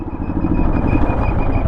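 A motorcycle engine runs loud and close with a steady, rumbling idle while the bike is parked near Amer Fort in Jaipur.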